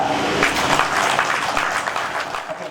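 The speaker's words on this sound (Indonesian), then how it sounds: "Aplaus untuk kita." Participants at a disaster-safe school (SPAB) training run by BPBD East Java at PKBM At Taubah burst into steady, enthusiastic applause that fills the room, with many hands clapping at once and slowly tapering.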